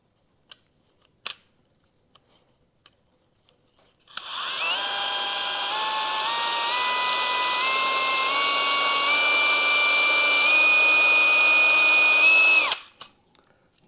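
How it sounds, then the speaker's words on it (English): A wheel cylinder hone, wetted with WD-40 and spun by a power drill, cleans rust from a 1980 Suzuki RM 400 brake part. A few faint taps come first, then a steady high whine that rises slightly in pitch for about eight seconds before cutting off. "I'm just going to take a wheel cylinder hone, a little WD in there, and just make sure I've got the rust out"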